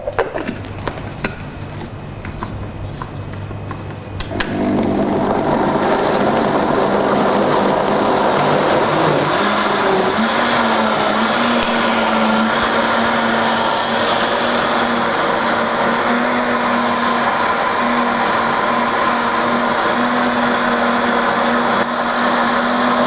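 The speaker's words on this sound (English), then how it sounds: "And all we're going to do is blend." A blender starts up after a few quiet seconds and runs loud and steady, whirring through raw juice ingredients with a slight pitch change partway through.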